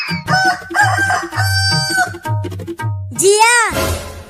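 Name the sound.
rooster crowing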